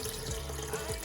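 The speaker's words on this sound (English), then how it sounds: "so I've got running water if I need it" Water runs from the tap of a converted Renault Master campervan in a short, quiet, steady gush with faint gurgling, heard alone.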